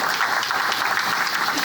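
An audience at a high school football interest meeting gives a round of applause, a steady wash of clapping from a crowd that stays even throughout this short stretch.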